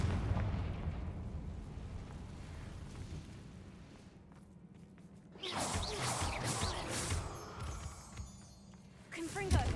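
Confringo fire spell blasts in Hogwarts Legacy, a rumbling explosive burst at the start that fades, then a fresh crackling blast midway with a sharper impact near the end, heavy booms under a voice talking.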